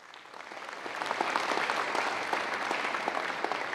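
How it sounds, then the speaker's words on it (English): A large crowd applauds at the opening ceremony of the 44th ASEAN Inter-Parliamentary Assembly, a dense, steady clapping that swells slightly and holds without voices. "Round of applause."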